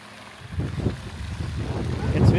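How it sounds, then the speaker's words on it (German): Steady low rumbling wind buffeting the microphone at a campsite in the Netherlands, growing gradually louder toward the end, with no clear speech. "Jetzt windet es wieder so ein bisschen."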